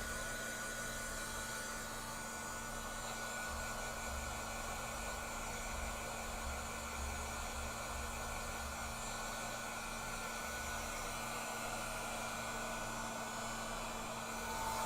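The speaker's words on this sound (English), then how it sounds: "let's get our heat tool ready" A craft heat tool blows hot air in a steady, loud whoosh with a constant motor hum, holding even for the whole stretch with no talk.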